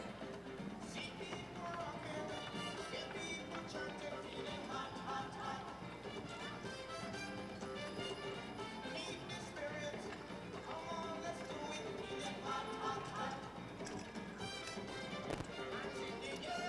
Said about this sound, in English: Walk your horses, please, on the rail at the walk